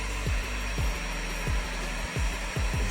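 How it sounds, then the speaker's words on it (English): A heat gun blows hot air onto plastic during a motorcycle audio amplifier install on a 2023 Harley, a loud steady whooshing roar with faint rhythmic low thumps repeating about every half second. "Heating up the plastic right now"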